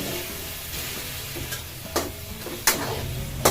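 Tinola cooking in a pot, a steady sizzle under a few sharp utensil clinks and scrapes against the pot as it is stirred, close, with no talking.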